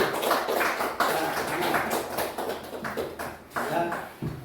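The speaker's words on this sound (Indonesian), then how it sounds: "Itu tepuk tangan untuk Bu Diana dulu." Audience applause for a presenter at a teachers' training dissemination session, a rough patter of clapping heard close and blended with a voice talking over it, fading slightly toward the end.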